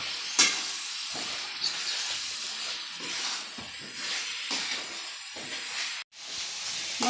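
Fish fry in a spicy masala paste in a pan, a steady moderate sizzling hiss broken by brief stirring scrapes and short pauses, with no talk.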